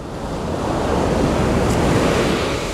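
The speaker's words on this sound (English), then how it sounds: "These waves are getting more and more aggressive." Aggressive ocean waves wash onto an early-morning beach in a steady, loud, roaring surf with wind buffeting the microphone, with no voices.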